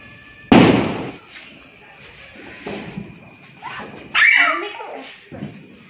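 A sharp, loud firecracker bang bursts out at a Deepavali celebration, followed a few seconds later by another crackling burst, with children's voices nearby.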